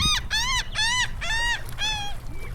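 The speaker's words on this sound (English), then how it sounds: "Birds are out." Birds calling at Fort DeSoto beach in Florida: four harsh, drawn-out calls in a steady rhythm, loud and close, over a low wind rumble.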